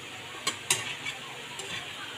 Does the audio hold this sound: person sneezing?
no